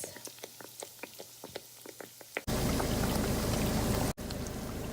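Donuts frying in a pan of hot oil, a light dripping crackle that bursts into a loud, steady sizzle and bubbling hiss, briefly cut off before continuing.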